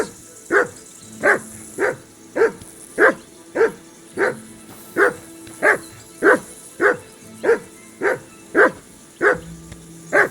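Dog barking in the medieval role-playing game Kingdom Come Deliverance 2: about fifteen loud, steady woofs at a regular pace, close by, with no talk over them.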